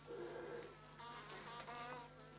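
Honey bees buzz around caged spare queen bees kept in small cages, a faint, close, steady drone with wavering pitch and a few louder passes, over a low hum.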